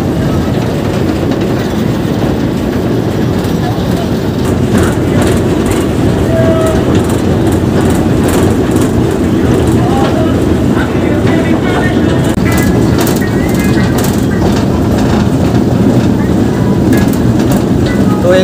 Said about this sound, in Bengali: এই কিন্তু ছেড়ে দিল আমাদের টয় ট্রেন,